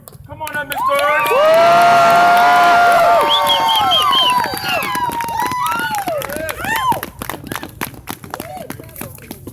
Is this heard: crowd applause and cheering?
yes